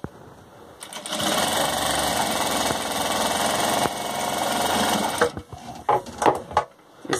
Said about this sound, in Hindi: हल्का सा इस टाइप से गोलाई में सिलाई मार लेंगे, अब इस टाइप से सिलाई कर लीजिए आप